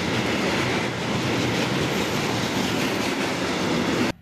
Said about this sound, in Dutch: Daarom komt deze railjet hier ook een stuk langzamer gereden. En is zelfs nog aan het remmen.